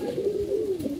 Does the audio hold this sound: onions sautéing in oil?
no